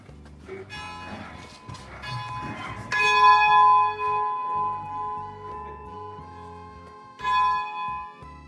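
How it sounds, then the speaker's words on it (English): A church bell in Selje, Norway rings out clearly in slow, resonant strikes, each tone lingering and overlapping, with a faint murmur of activity underneath. "ropes, ready to be pulled to ring the bell"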